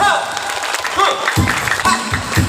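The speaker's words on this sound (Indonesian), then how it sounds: "tepuk tangan dulu 1, 2, 3" Children and an audience clapping on a count of three at an Eid al-Adha religious gathering, scattered claps that gather into a louder burst in the second half, with voices mixed in.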